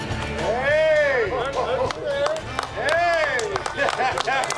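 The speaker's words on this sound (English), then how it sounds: "Give them a big round of applause." Applause from the audience at a Rudy's Pro Redfish Series fishing tournament weigh-in in Houma, Louisiana, with scattered clapping running beneath loud, excited voices and shouts throughout.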